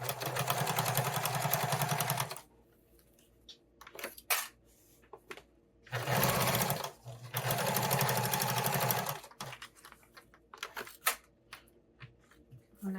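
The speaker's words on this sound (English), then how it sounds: "I'm going to lengthen my stitch just a little bit, and I am going to edge stitch all the way around" A sewing machine edge stitching around the binding of a fabric tool storage roll runs in two long, loud, steady bursts, separated by quiet handling clicks and rustles.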